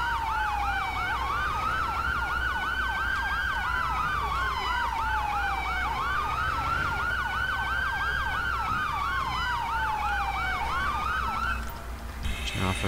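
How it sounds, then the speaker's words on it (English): A police car siren in GTA V with the LSPDFR mod wails continuously, sweeping up and down with a rapid yelp layered over it, loud and steady over engine rumble, cutting off near the end. "Turn off our siren here."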